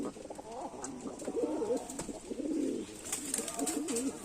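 Old-breed pigeons in a fancier's loft give soft, repeated throaty coos in short rolling bursts, close but quiet, with no voices over them.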